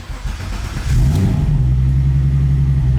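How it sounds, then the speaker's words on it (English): VR6 engine swapped into an Audi cranks and catches about a second in, then settles into a loud, steady, throaty idle with an even low hum, close up and with no voices. "I'll do a quick startup real quick"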